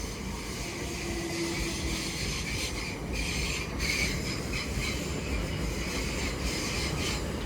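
Class 377 electric multiple unit 377701 rolling through Clapham Junction, a steady loud rumble of wheels on rail with a brief high wheel squeal early on, continuous throughout with no talk.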